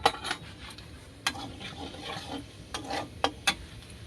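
Whole cumin seeds dropped into hot oil with a dried red chilli and whole garam masala, giving a soft close sizzle broken by a few sharp crackles and pops and light clinks of a spoon against the pan.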